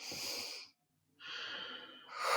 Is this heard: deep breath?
yes